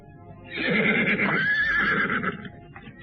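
A horse being tethered lets out one long, loud whinny that rises and then trembles for about two seconds, close by and with no one speaking.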